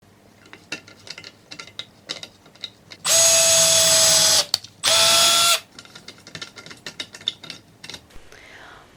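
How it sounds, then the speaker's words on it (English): Two bursts of a power drill whirring at high speed while pre-drilling holes for keyhole fasteners on a bookshelf, each lasting a second or two, between quieter clicks and handling noises. "I'm just pre-drilling some holes"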